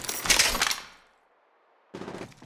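Rapid automatic gunfire in Apex Legends Mobile, a loud close burst of shots lasting under a second, a short pause, then a second burst starting.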